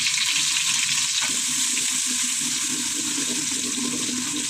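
Chopped onion with cinnamon sticks, crushed cardamom and bay leaf frying in oil for pulao, a steady, dense sizzle that hisses evenly and close up throughout, with one faint tap early on.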